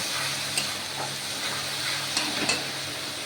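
Prawn malai curry with salt and turmeric stirred in a pan, a steady sizzle with a few soft scrapes of the spoon, close by.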